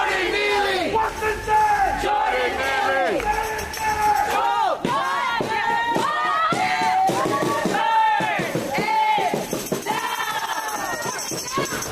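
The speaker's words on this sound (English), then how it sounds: "Here they are out marching in the streets, protesting the decision with Daniel Penny." Large crowd of Black Lives Matter protesters marching through city streets, many voices shouting rhythmic chants in unison, loud and close with overlapping calls.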